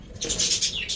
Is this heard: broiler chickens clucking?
no